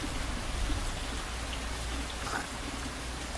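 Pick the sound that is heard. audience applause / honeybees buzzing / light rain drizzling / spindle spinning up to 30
light rain drizzling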